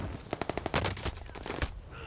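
Rapid gunfire in the Warzone video game: quick bursts of close, loud shots in an uneven rhythm, a few heavier single blasts among them, with no talk over the shooting.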